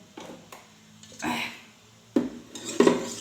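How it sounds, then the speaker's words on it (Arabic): Whipped cream powder being mixed and whisked with other ingredients in a bowl for a two-tone chocolate mini cake, giving intermittent clinks and knocks against the bowl and a brief swishing stretch, close and moderately quiet. "ندعو نخلطوا المكونات مع بعضها، نخليوها تخفق مدة شوية"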